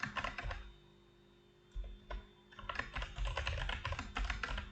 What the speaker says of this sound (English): So we will just type here student info.